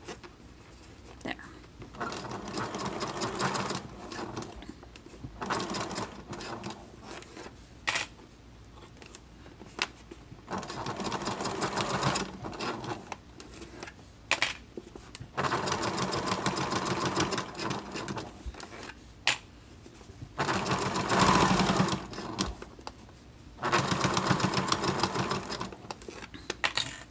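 A sewing machine stitches a fabric crossbody wallet in repeated bursts of rapid whirring and needle chatter, stopping and restarting several times with short quiet gaps and handling noises between runs.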